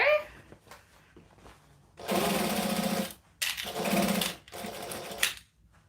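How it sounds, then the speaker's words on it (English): Sewing machine stitching and backstitching a seam, heard as two loud, steady bursts of rapid mechanical whirring separated by a short pause, with quiet handling noises before and after. "sew from the top here. Making sure I backstitch."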